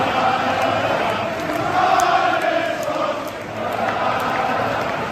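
At Anfield, the Liverpool home crowd of more than 55,000 roars in a broad, sustained wash of massed singing and cheering, swelling and dipping slightly as it carries from a distance.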